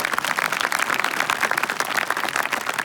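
An audience clapping steadily, a dense continuous patter of many hands applauding at close range, with no talk over it.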